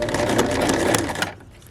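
A sewing machine back stitches along a pants seam, running with a steady close whir for about a second before stopping abruptly.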